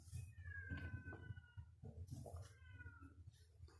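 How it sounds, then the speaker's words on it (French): A house cat meows several times nearby, with drawn-out rising and falling calls spaced across a few seconds in a quiet room. "j'ai mon chat qui miaule"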